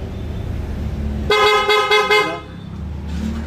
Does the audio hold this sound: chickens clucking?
no